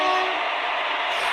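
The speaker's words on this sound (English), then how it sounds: "it's not our train's horn. It's that old green train's horn." An old green train sounds its horn at an Indian railway station, a steady sustained blare held loud and close for the whole moment.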